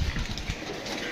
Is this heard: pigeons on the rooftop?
yes